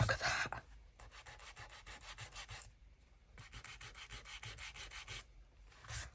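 Paper for a junk journal being sanded by hand, rhythmic rasping strokes in two long runs separated by a brief pause, faint and close with no speech.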